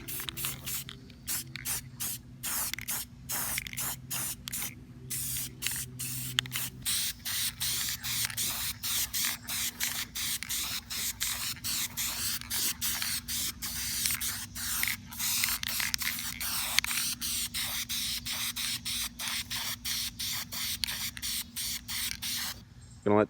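Red paint being sprayed onto car parts in quick coats during a Camaro twin-turbo build, with a steady sequence of short, sharp aerosol hisses, close and loud, over a low background hum.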